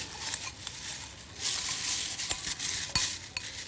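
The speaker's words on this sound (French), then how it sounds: "Je mélange mes céréales, j'ai le droit." A spoon stirring cereal in a bowl in a kitchen, giving soft, scraping clinks and crunchy rustles in irregular bursts close to the microphone.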